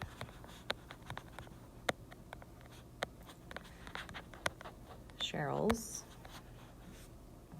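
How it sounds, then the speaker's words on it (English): Marker or pen scratching across a board during a math lesson on sinusoidal modeling, a series of sharp taps and brief strokes with a longer scribbling stretch near the end, close and moderately loud while a voice speaks. "let's go ahead and write that down"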